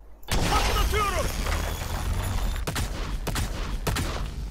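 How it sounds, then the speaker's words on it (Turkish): Three blasts in a row from Breach's C ability in Valorant, a loud sustained roaring burst with sharp repeated pulses near the end, close and dominant with no talk over it. "Arka arkaya 3 kere patlıyor ve her bir tanesi 60 vuruyor"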